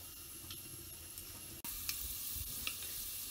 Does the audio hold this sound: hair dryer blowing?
no